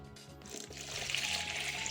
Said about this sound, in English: Pour a couple of liters of hot water into the basin